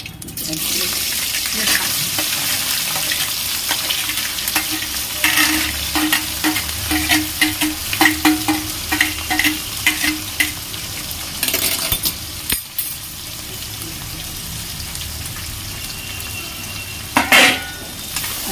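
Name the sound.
onions frying in oil with cinnamon tempering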